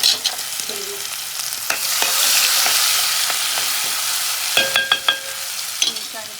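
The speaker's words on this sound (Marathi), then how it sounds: "आता याच्यात टाकते हिरवी मिरचीची पेस्ट." Green chili paste hits hot oil in a pan and sizzles steadily while a spoon scrapes and stirs it, with clinks and knocks against the pan throughout.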